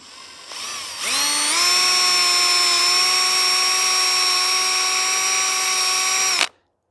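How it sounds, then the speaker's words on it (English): A power drill whines loudly and steadily for about five seconds after a brief spin-up while boring into a black walnut tree, then stops abruptly. "We are going to drill into our tree right here on a slightly upward angle."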